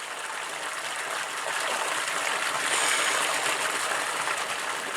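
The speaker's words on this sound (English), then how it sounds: "There's a hot tub here out on the patio." An outdoor hot tub on a patio in cold air fills the scene with continuous broadband bubbling and rushing water, fairly close and steady, growing slightly louder toward the middle.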